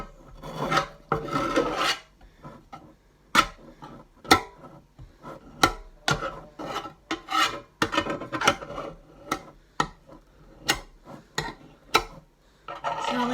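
Butter is rubbed around the inside of a metal loaf tin for a lemon drizzle loaf, producing repeated scraping, rasping strokes close by in an irregular rhythm, with no talking.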